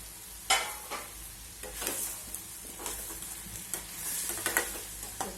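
Eggplant is stirred and fried in a pan for Marathi steamed vangyache bharit. A quiet, steady sizzle sits under irregular scraping stirs, with one sharper clank near the start.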